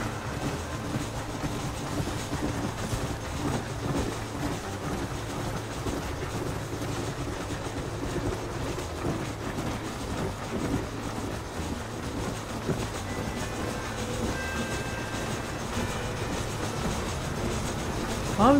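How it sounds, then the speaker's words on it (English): A train in the Red Dead Redemption video game rolls steadily along the tracks with a continuous rumble and faint rhythmic clatter, loud and unbroken for the whole stretch, with little talk over it. "We don't want to get ahead of the train, you know."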